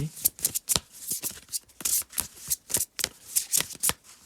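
Tarot and oracle cards being shuffled and drawn, a run of crisp riffling and slapping bursts in an uneven rhythm, close and fairly loud with no voice over them.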